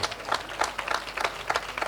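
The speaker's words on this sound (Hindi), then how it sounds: "और मसीह यीशु के लिए, खतून के लिए भी जोरदार तालियां बजा सकते हैं।" A church congregation claps during a live Hindi-language sermon, scattered moderately faint hand claps in loose bursts lasting about two seconds.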